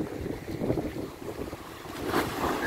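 Waves crashing against a sea wall, with surging rushes of water and spray building and breaking close by, heavily buffeted by wind noise, no voices.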